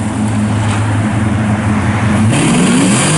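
A 1971 Chevrolet Monte Carlo resto-mod with a 6.0 LS V8 runs loud and close, a steady deep engine drone that rises in pitch as the throttle opens near the end.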